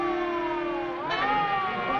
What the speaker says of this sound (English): It's a siren. Probably an ambulance or a police car.